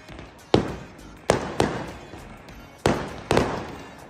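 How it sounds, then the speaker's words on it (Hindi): Fireworks burst over the mountains of northern Pakistan: five sharp, loud cracks at uneven intervals, each trailing off in a short echoing decay, with no talk over them. "मैं कह रहा था अनु कि यार फायर वर्क देखने को मिल रहा है, क्या वाह।"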